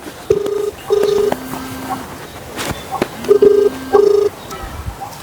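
A telephone on a call gives out steady repeated tone bursts, several evenly spaced beeps heard up close with voices talking over them.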